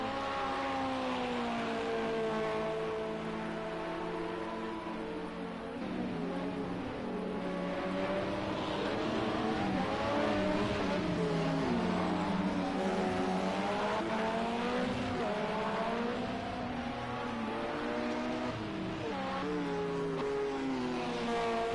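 Race cars in Project Cars 2 at the Dubai round, several engines droning together continuously at high revs, their pitch rising and falling as they jostle side by side, loud and sustained.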